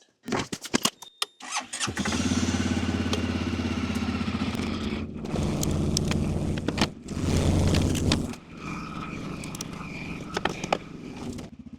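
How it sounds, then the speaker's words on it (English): A small ATV engine is cranked and catches after a couple of clicks, then idles roughly and loudly, revving unevenly before settling, with clanks nearby. "get it fired up so that way I can get the engine warming up"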